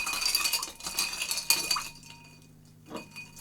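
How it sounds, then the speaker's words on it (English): A gin spritz stirred over ice in a glass: bright clinks and rattles of ice and spoon for about two seconds, then quieter, with a brief clink near the end; no talking. "I'm just going to give that a quick stir"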